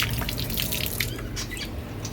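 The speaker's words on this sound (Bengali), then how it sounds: "সেই বাসন টাসনগুলো পড়ে আছে, এগুলো এখন সব ধুয়ে নিতে হবে পরিষ্কার করে।" Dishes being washed at a sink with running water, a steady broadband splash with scattered drips and clinks continuing throughout at close range.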